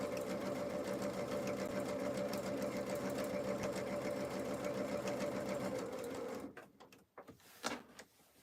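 A sewing machine runs steadily with a rapid, even stitching drone for several seconds, then slows and stops, leaving a few short clicks and handling noises.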